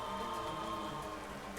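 Rain weather effect during a Pokémon video game battle, a soft steady patter of rainfall heard quietly and continuously with no voices.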